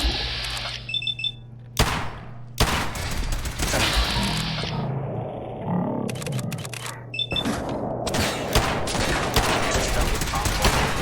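Combat gunfire in the video game Fallout 4, several loud close bursts of shots broken by short gaps, mixed with electronic beeping tones and battle noise.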